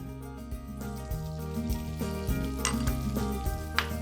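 Sausage sizzles in grapeseed oil in a pan over medium heat, a soft steady frying crackle with a few light clinks and stirring scrapes, quiet and close, without speech.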